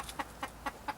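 Four short, evenly spaced clucks from a chicken, moderately close, with a quiet background and no talking.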